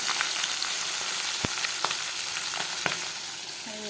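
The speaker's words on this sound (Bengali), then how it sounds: "যে মাছ ভাজা হয়েছে এটা তো হয়েছেই, মাছ মাথাগুলো ভাজা হয়েছে" Fish heads frying in a pan, with a steady sizzle of hot oil broken by a few sharp pops and clicks of stirring, close and alone.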